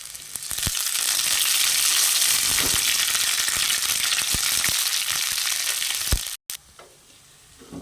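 Garlic, ginger and curry leaves sizzle loudly in hot oil for a choora curry, a dense, crackling hiss with a few stirring knocks that cuts off abruptly, leaving a quieter tail.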